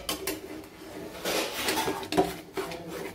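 Egg bhurji is stirred in a pan over low heat until dry, the metal utensil scraping and clinking against the pan in quick irregular strokes, close and moderately loud.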